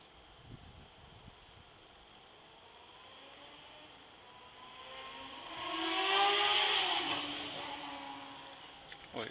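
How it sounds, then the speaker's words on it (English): A car racing past fast outside, heard from indoors as a rising whoosh that swells to a peak around the middle and then fades, moderately near, with no talk over it. "Boy, somebody's racing by fast."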